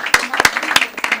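An audience gives brief, sparse clapping for a woman from Goma: a few sharp claps spaced at a steady beat, with a voice running underneath.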